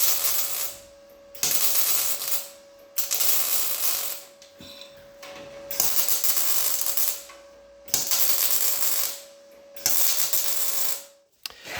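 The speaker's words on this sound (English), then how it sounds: "So I'm going to go ahead now and get that piece tack welded in place." Tack welding a steel piece in place during a rusty metal restoration: roughly six short, loud bursts of harsh crackling arc, each a second or two long, separated by quiet pauses, with a steady hum underneath.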